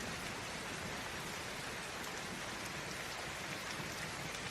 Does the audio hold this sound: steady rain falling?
yes